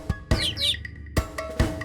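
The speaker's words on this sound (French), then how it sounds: "Le petit oiseau, petit oiseau," Chirpy high-pitched calls of a small bird within a French children's song about animals, a few bright tweets in quick succession over a low musical bed, close and clear.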